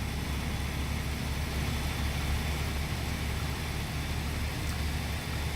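A truck engine idles in the American Truck Simulator game, heard from outside the cab as a loud, steady low rumble that drones on evenly throughout without change or pause, with no voices over it.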